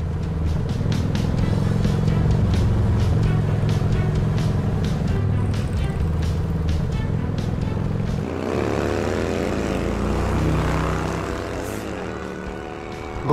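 A car drives fast and aggressively past on a road, loud and close, its engine roar rising and shifting pitch as it passes; voices are heard under the engine.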